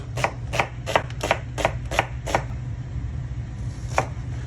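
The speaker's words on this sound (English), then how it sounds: "I peeled them, cut them in half again, so it fits on your spoon, right, guys? And just thinly sliced." A knife thinly slices peeled Vidalia onions on a board, giving about seven crisp, evenly spaced chops in quick rhythm, then a pause and one last cut, close and clear over a low background hum.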